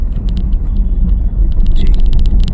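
A car driven on the road during a driving lesson, a steady low engine and road rumble with faint intermittent clicks and ticks above it, no talk.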